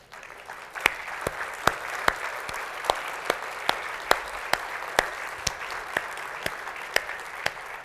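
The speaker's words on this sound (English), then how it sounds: "I'd just like to ask our scholarship recipients just to stand up so we can applaud you." At a parent engagement conference plenary, a seated audience applauds scholarship recipients with a sustained patter of clapping, punctuated by crisp, sharp individual claps standing out nearby.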